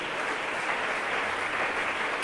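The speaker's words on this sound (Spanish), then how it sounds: "Denle fuerte ese aplauso a Dios." A church congregation applauds during a sermon, producing a continuous, even wash of clapping heard from a distance at moderate volume.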